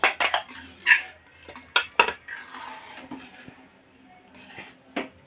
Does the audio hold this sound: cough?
no